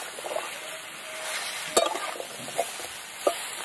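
Vegetables tossed with turmeric and salt for Bengali shukto, stirred in a pan over a steady sizzle, with a few distinct spatula knocks against the pan, no voices.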